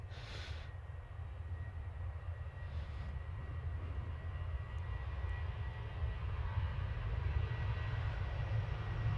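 An airplane passing at London Stansted Airport, a low, steady jet engine roar heard at moderate distance that gradually grows louder across the clip, with no voices.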